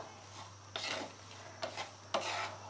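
Peanuts roasting in salt over a medium flame, stirred in rough scraping sweeps against the pan, three gritty rasping strokes over a low steady hum.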